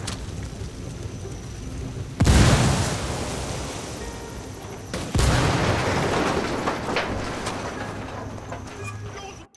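A grenade blast in Ghost Recon Wildlands lands as a loud, sudden broadband boom near 2.2 seconds, with a second burst at about 5 seconds, both decaying into a rumbling wash of debris and ambient game noise.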